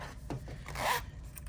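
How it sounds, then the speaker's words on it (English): A zipper is drawn closed along a fabric embroidered in-the-hoop bag with a hidden clear pocket, a short close raspy pull rising and fading over about a second, amid light handling rustles. "and then just pull your zipper closed."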